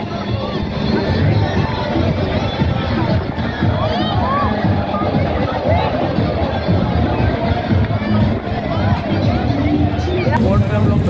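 Large picnic crowd at Karli lake near Karachi on a busy Sunday, a dense continuous babble of many voices close and loud, with people talking throughout.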